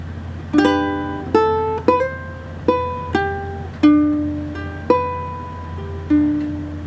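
Single notes are plucked one at a time on a ukulele fingerstyle, each ringing and decaying, in a slow, gentle melodic sequence.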